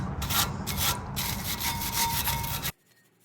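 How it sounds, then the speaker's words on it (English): A stiff brush scrubs a front brake caliper bracket on a Ford Expedition or Lincoln Navigator in quick, steady, rasping strokes close to the microphone for almost three seconds, then stops abruptly into near silence. "let's go ahead and grab the brush. Start cleaning right here."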